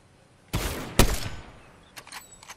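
Gunfire in a first-person shooter game: a burst of shots around the half-second mark and a louder crack near one second, then short fainter shots trailing off, with no talking.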